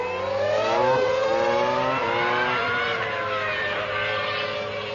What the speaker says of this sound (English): There's a nice little bit of wheel spin.